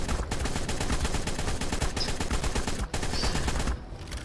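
Sustained heavy gunfire in the video game Ark, continuous rapid overlapping shots loud and close with a brief pause near the end.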